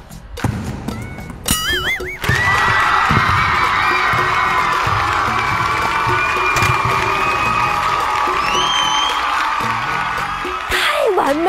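A live audience at a comedy mime sketch erupts into loud, sustained cheering and shouting after a few sharp knocks, with whistles cutting through the roar until it briefly dips near the end.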